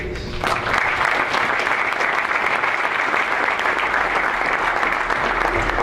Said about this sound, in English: one more round of applause, if you would, for our entire staff